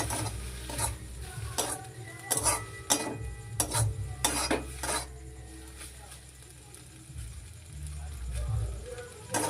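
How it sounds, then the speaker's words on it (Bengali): A spoon scrapes and stirs vegetable Maggi noodles with spice mix in a pan, giving rhythmic rasping strokes close by over a faint sizzle. "আবার কিছুক্ষণ নাড়াচাড়া করতে হবে।"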